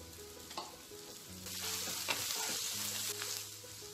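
Leafy bankoti greens stirred into a hot pan with onions and lentils, crackling and sizzling steadily with scraping stirs, alongside a low background hum or tones.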